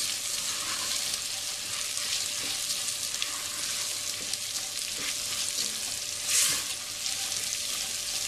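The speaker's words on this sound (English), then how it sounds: "you add your risotto rice in and give that a stir" Risotto rice being stirred through chorizo and onions in a pan, with a steady sizzling fry and soft scraping stirs running throughout and one brief louder scrape near the end, close up with no talking.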